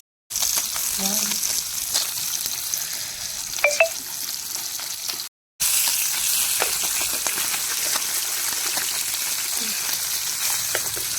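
Fish fries in a pan with a steady, dense sizzle and crackle that runs through the whole stretch, broken briefly by one short gap.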